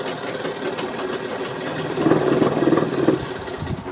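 A sewing machine runs steadily as a second line of stitching is sewn beside the first on the fabric strip for a hook placket, with a constant mechanical whir that grows a little louder and busier toward the end, no voices.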